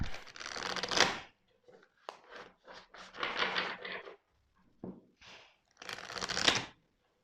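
Oracle cards for a reading are shuffled in quick riffling bursts, close and crisp, separated by short pauses.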